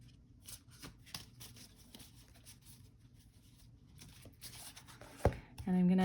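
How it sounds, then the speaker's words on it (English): A deck of art poetry cards is shuffled by hand at close range, with soft, rapid papery flicks and riffles, followed by a brief louder knock and rustle. "I'm just going to give the cards a bit of a shuffle here."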